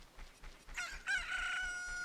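A rooster crows in Ocarina of Time, a clear rising then sustained cock-a-doodle-doo that starts partway in and rings loudly over faint game background sound.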